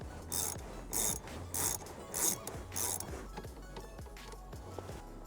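A ratchet wrench loosens the large bolt holding a car's steering wheel during an interior upgrade, giving five bursts of rapid clicking in a steady rhythm, close and fairly loud against a low hum.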